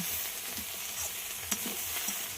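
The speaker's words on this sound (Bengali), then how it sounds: "আবারও সব কিছু খুব ভালো করে ভেজে নেব" Scallions, beans, potato and eggplant fry together in a pan, a soft constant sizzle under light, repeated scraping strokes of a spatula, fairly quiet and close.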